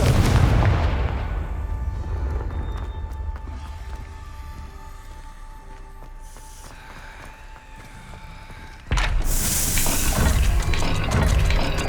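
Confringo blasting spell in Hogwarts Legacy, a booming fiery explosion at the start that rumbles and fades, then a second sharp, bright crackling blast near the end, loud and close with no voices.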